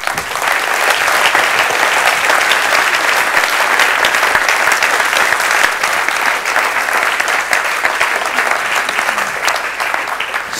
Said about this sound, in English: giving them all a round of applause